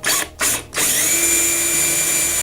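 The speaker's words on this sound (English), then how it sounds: "I'm going to secure this with a screw now on either side." A power drill drives a screw through the long grain into a wooden hammer handle, with two short bursts and then a sustained loud whir with a steady tone, all close and without talk.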